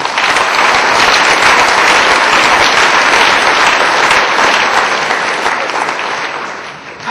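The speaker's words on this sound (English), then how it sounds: "why not give a round of applause to all of those who have come before you to speak?" Sustained applause from a conference audience honoring earlier speakers, dense and steady clapping filling the room for about seven seconds before tapering slightly at the end.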